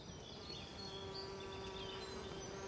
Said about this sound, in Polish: To jest taka większa pszczoła.